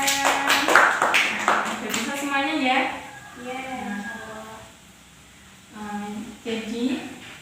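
A third-grade class in a religious studies lesson claps in short rhythmic bursts, mixed with children's voices chanting and speaking, the claps fading in and out between louder vocal passages.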